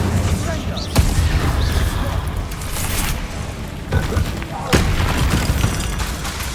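Incendio fire spells from Hogwarts Legacy, cast during a troll attack: several heavy, booming bursts land among a steady roar of combat, with a voice shouting over the top.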